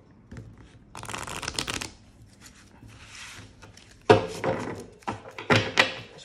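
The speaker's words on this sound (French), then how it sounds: "il est un peu dur à mélanger parce qu'il est neuf" A brand-new, stiff oracle card deck is shuffled in several bursts of rapid, crisp riffling and slapping, close and fairly loud with quiet pauses between, and no talking.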